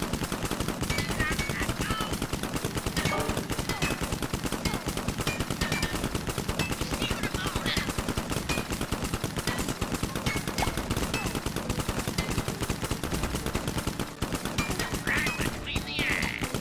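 Rapid gunfire in the South Park: The Fractured but Whole video game: a dense, unbroken stream of fast shots with squawking, quack-like effects mixed in, loud and continuous throughout.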